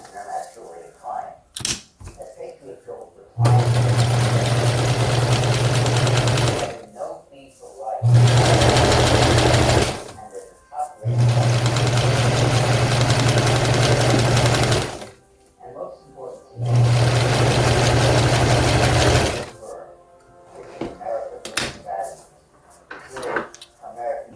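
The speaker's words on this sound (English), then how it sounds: "we're going to run some seams along here so this doesn't fray out a little." A sewing machine stitches seams into the armrest upholstery for a 1977 Chevy C10 pickup, running in four long steady bursts of several seconds each, loud and close, with short pauses and light handling noises between them.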